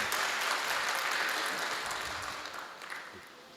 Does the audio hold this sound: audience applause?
yes